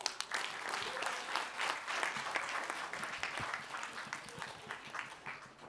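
An audience at a sustainability quiz final applauding a finalist, with dense sustained clapping that stays fairly even and moderately distant, with no talk over it.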